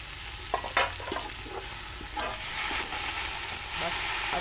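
Onions steaming and sizzling in a covered pan for matar pulao, a steady close hiss with a few clinks of the lid or spoon, no talking.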